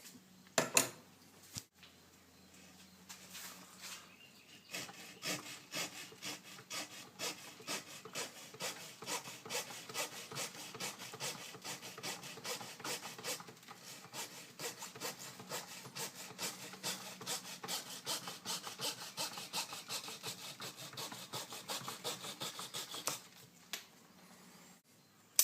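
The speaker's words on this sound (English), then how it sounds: "I'm going to get my Dremel and hollow that out a little bit." A Dremel rotary tool hollows out yaupon holly bonsai wood, close rasping and grinding in quick repeated strokes that run steadily for about twenty seconds before stopping.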